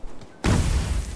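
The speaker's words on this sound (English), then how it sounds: "That was a grenade." A sudden loud boom from a grenade exploding in the Spec Ops The Line multiplayer game, bursting out of near quiet and rumbling on heavily for the rest of the moment.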